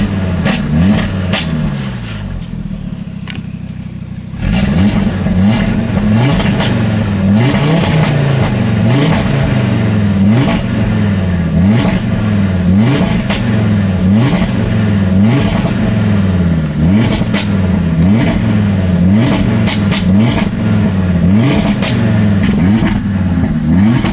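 Audi RS3 engine heard from inside the cockpit, revving repeatedly in a steady rhythm of loud rises and falls after a quieter idle at the start, close and dominant with no talk.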